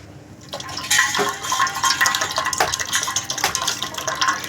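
Coconut water poured from a freshly cut coconut, a steady liquid trickle and splash running continuously, close and fairly loud, with some handling clatter at the start.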